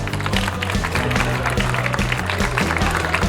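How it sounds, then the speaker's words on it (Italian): Audience applause greets the tourism councillor at the opening of the Miss Venice Beach 2024 pageant evening in Caorle, a steady patter of clapping over a rhythmic musical backing. "Un applauso!"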